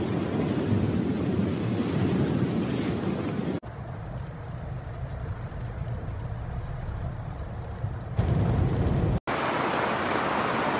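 Heavy rain from a supercell thunderstorm roars steadily and loudly over a flooded street in Kilis and Gaziantep, Turkey, a dense continuous wash of downpour that shifts in character across abrupt cuts, with no clear hail impacts standing out.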